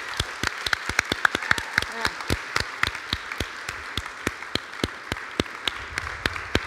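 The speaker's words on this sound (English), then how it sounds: "give a huge, rowdy round of applause to everybody who spoke today" Steady rhythmic clapping, sharp distinct claps in a regular beat, moderately loud, sounding like a small audience clapping along.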